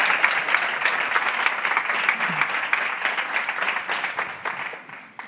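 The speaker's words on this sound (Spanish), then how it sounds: "Un aplauso muy grande" Audience applause after a public talk, a full, sustained round of clapping from a seated crowd that holds steady for several seconds and then tapers off.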